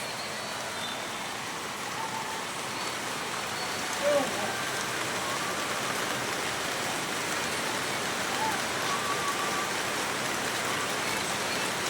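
Steady rain pattering on a house roof, a continuous dense hiss with occasional louder drops, fairly close and unbroken throughout.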